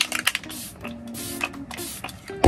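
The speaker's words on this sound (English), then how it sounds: "Micro Setting Mist." e.l.f. Stay All Day Blue Light micro setting mist sprayed in a few quick, soft hissing bursts close up, with small handling clicks between them.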